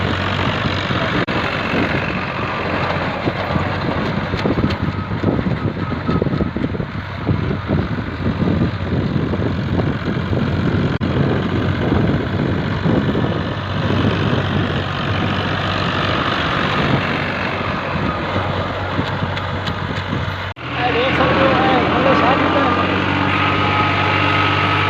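Tractor engine pulling a rotavator in third gear, a steady loud low diesel drone with constant rumble throughout, briefly shifting in tone near the end.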